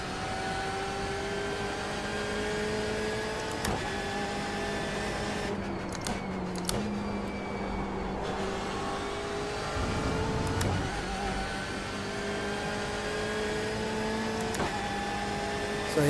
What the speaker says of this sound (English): That V8 is going to spin those tires if you're not careful.